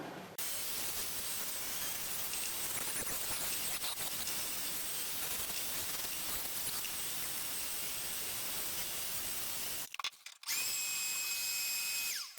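A rotary tool fitted with a burr carves into wood, giving a steady, continuous high whine and grinding rub. It breaks off briefly near the end, then spins up again with a clear rising tone.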